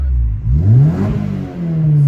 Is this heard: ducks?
no